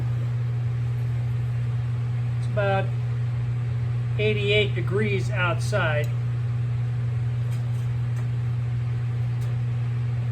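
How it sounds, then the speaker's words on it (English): A Portacool evaporative cooler runs steadily in the background of a hot outdoor tire-changing session, a constant low fan drone under brief speech. "The noise you're hearing in the background is the Portacool."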